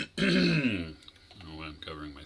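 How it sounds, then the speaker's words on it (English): A man clears his throat once, a loud rasping burst up close, followed by a couple of quieter throaty sounds, with faint Atari 2600 Venture arcade game sounds beneath. "Sorry for clearing my throat."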